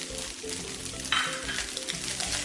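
Scallions hit a hot pan and fry while being stirred, a dense close sizzle with scraping strokes and a brief hiss surge as they go in.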